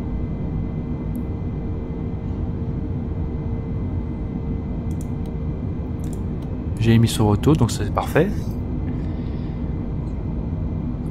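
A steady, droning airliner engine hum in Flight Simulator during a climb out of Toulouse Blagnac, continuous and even, with someone speaking French over it and a brief burst of clicks and chirps near the end.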